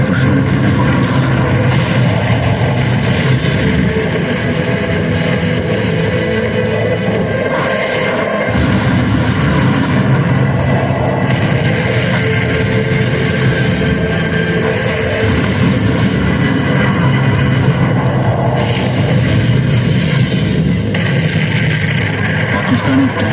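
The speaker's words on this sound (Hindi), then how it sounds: "भारतीय वायुसेना की गरज की ललकार दूर से सुनाई पड़ी" Indian Air Force fighter jets roar through a Jaisalmer light show, a loud, dense, continuous rumble with heavy booming lows that swells and dips over the whole stretch, with a narrating voice partly audible beneath.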